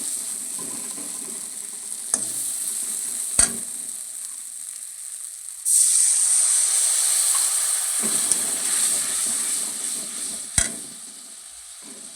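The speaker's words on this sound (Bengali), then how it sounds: "এইবার আমি অল্প একটু জল দিয়ে দেবো" Water hits spices and hot oil frying for a chela fish curry. A quiet sizzle with a few clicks jumps to a loud, steady hissing sizzle that gradually settles, with no voices.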